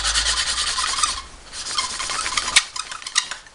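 An engine valve from a Wolseley WD2 restoration is hand-lapped into its seat, giving a close, rhythmic, gritty rasp as it is scrubbed back and forth.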